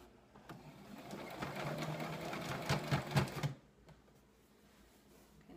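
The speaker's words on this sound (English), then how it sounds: "I'm going to back stitch a little bit just to help the stitch hold a little bit better" A sewing machine backstitches a pillowcase being made into an egg-gathering apron, running in a steady rapid whir for about three seconds before stopping, close and alone with no talk.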